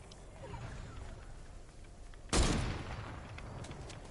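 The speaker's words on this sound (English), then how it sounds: "someone just shot at me" One loud, sharp gunshot from a Fortnite match bursts out after a stretch of quiet background hiss, then fades into a short tail, with no talking.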